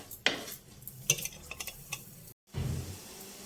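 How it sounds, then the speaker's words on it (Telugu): Onions frying in a pan for a mushroom and chana dal curry, stirred with a utensil that scrapes and clinks against the metal over a quiet background sizzle, with a short dropout near the end. "ఉల్లిపాయ బాగా వేగాలండి."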